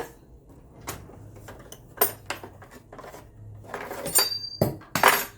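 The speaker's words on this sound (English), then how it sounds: "So I'm going to cut all these potatoes." A knife cuts potatoes on a board in scattered, separate chops and taps, with clinks of metal and some handling noise, close by and fairly quiet.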